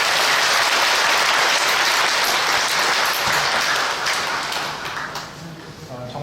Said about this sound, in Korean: 우리 청년들에게 감사와 격려에 박수하겠습니다